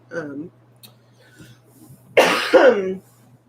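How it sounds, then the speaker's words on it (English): After a brief vocal sound, two harsh coughs follow in quick succession, loud and close in a quiet room. "Sorry for coughing."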